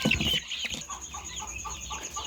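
Colombian Buff Brahma chickens cluck and chatter nearby in a quick run of short, sharp calls, with no voices.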